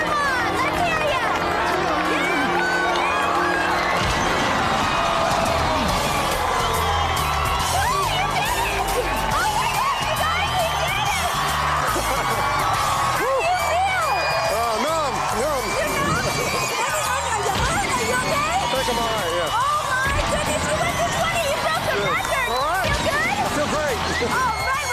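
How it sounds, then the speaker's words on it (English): A studio audience cheers and claps loudly and continuously as a strongman attempts to break a record stack of 20 concrete slabs, with thuds and crashes mixed into the roar of the crowd. "Let's really cheer him on. Let's hear ya."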